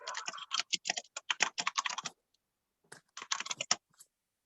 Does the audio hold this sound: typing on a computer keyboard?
yes